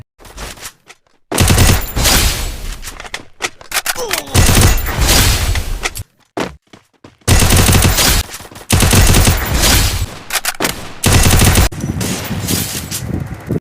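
Rapid bursts of UMP submachine gun fire in the Free Fire battle game, loud and close, coming in repeated long volleys with short silent gaps between them.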